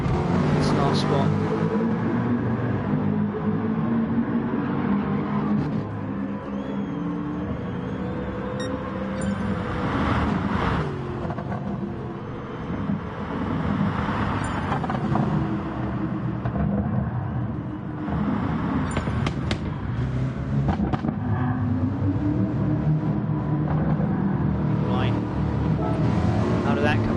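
Race cars crossing the finish line in GT Sport at Laguna Seca, a steady droning engine roar with passing swells, commentators talking over it throughout.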